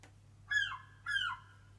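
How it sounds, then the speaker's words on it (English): A seagull sound effect: two clear, shrill, descending calls, each about a quarter second long, heard alone against a quiet low hum. "It's actually a seagull."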